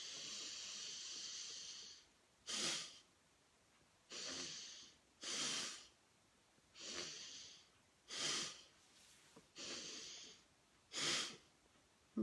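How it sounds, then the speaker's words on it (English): Deep belly breathing exercise: slow, airy breaths repeat in a steady rhythm, each a hissing rush of air about a second long with quiet pauses between, close to the mic and with no talking. "So when you breathe in, breathe the belly right full."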